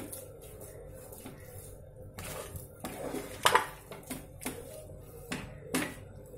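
A spoon scrapes and clinks against a pot as cooked rice is stirred for murukku vadam, producing irregular close metallic taps and scrapes with a few sharper knocks.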